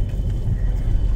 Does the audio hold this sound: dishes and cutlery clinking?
no